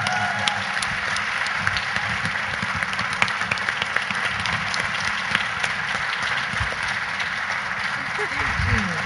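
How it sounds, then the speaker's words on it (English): Audience applause for a panel at a voter registration issue forum, a steady wash of clapping filling the whole stretch with a voice speaking over it. "Can I get one more round of applause for this wonderful panel that it is we have?"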